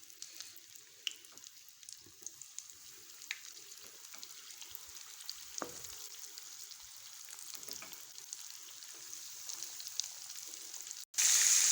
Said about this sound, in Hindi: अब हम इसको घी में डालेंगे और इसको शैलो फ्राई करेंगे।